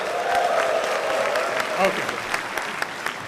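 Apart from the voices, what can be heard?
audience cheering and applauding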